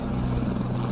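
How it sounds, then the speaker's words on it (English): A helicopter's steady, heavy thrumming drone fills the air, loud and continuous with no voices over it. "Helicopter again."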